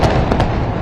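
Explosions in war footage, heard as a dense, loud rumbling blast with a couple of sharp cracking bursts on top, close and harsh throughout the short moment.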